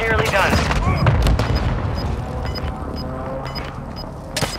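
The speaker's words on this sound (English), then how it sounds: "Hostile mortar strike near your position." Mortar strike explosions land in Call of Duty Modern Warfare II Warzone 2.0: a cluster of booming impacts and gunfire crackle early on, then repeated high electronic beeps, with game voice chatter underneath.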